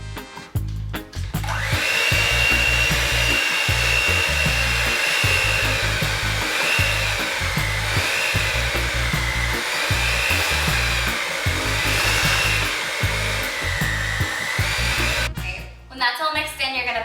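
An electric hand mixer blends batter for Jamaican chocolate chip plantain bread, a loud steady whirring drone with a wavering pitch that runs for about fifteen seconds before clicking off, up close.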